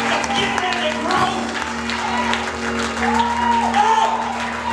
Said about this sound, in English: Clap your hands for a little bit.